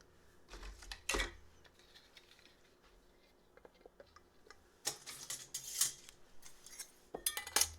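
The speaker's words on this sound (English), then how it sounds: "Put your rings on, fingertip tight" Metal canning rings being screwed onto glass jars of home-canned BBQ pork loin, heard as scattered light metallic clinks and taps, some sharper clusters in short bursts, with no one talking.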